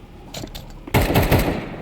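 Bursts of automatic gunfire in Counter-Strike 2, a faint stutter of distant shots that suddenly swells into a loud, sustained rattle for the rest of the moment.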